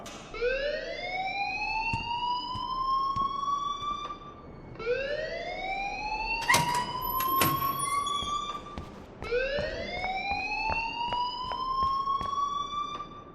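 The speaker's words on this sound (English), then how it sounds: "please turn off that alarm since that's your job" School alarm in the video game Life Is Strange, wailing in three long rising siren sweeps with sharp clicks and knocks between them.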